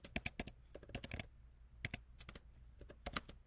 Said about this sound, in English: I just type in the title